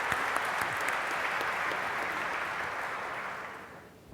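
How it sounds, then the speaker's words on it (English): Sustained, dense applause from a large audience greets the panel participants at an Indian wealth creation study presentation, steady and loud before gradually fading toward the end. "Can we have a round of applause for our participants?"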